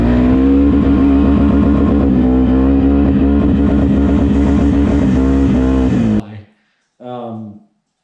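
Can-Am Outlander ATV engine with advanced timing and removed rev limiters, revving hard and high: a loud, sustained buzzing wail that cuts off abruptly, followed by one short rev burst.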